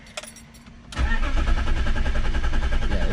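A BMW E46 wagon's starter whirs after a few faint clicks, then a steady loud cranking churn runs on evenly for a couple of seconds without the engine catching.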